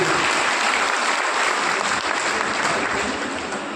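An audience applauds for Modi at a party workers' felicitation event in Rajnandgaon, with dense continuous clapping from a large crowd that holds steady and then starts to fade.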